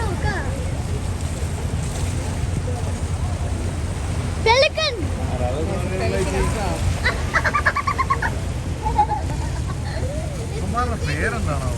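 Ducks quack and honk at a lake, their calls scattered over lapping water and a steady low rumble, with people talking nearby.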